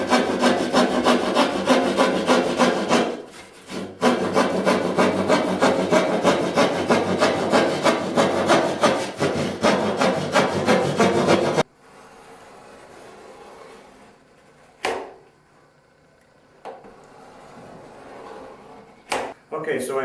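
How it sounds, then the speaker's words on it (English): A drywall saw cuts a vertical line through a drywall sheet with a steady run of close, rasping back-and-forth strokes. The strokes pause briefly, then stop, and a few faint knocks and handling sounds follow in near silence. "The first cut we'll use the drywall saw, and we'll cut the vertical piece here"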